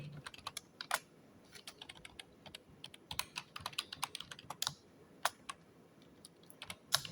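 Irregular clicks of typing on a computer keyboard in a quiet room, quick bursts of separate keystrokes at close range with no talk.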